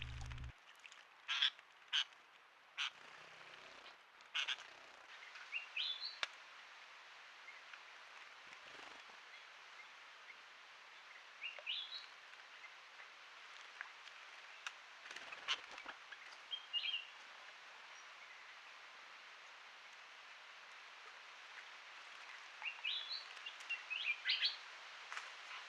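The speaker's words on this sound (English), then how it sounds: "White-rumped munias in the lower pool." White-rumped munias call beside a pool with short, faint chirps and tweets that come in scattered clusters over a quiet, hissy background, along with a few sharper nearby clicks.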